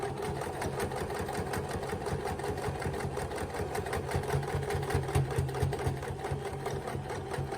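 A sewing machine backstitching along a quilt seam makes a steady, continuous mechanical whir with a fast needle rhythm. It runs close and evenly for the whole stretch, with no talking.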